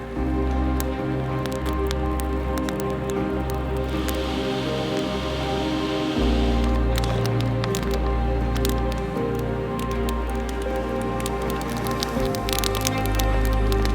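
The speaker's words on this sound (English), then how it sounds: "it's raining again" Steady rain patters on a surface with scattered drops and crackles, over a continuous low rumble; no voices.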